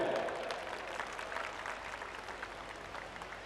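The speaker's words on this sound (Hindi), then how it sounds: "एक बार जोरदार तालियों से सर का स्वागत किया जाए।" An audience at a college cultural fest breaks into applause to welcome the college director, a dense patter of clapping that starts strongest and settles to a steady, moderately distant wash.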